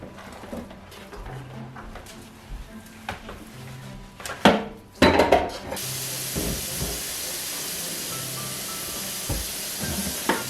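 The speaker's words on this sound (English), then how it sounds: "I'll get those dishes washed up." Dishes washed by hand in a home kitchen: running tap water hisses steadily while pots and utensils clink and knock intermittently nearby, the water growing louder partway through.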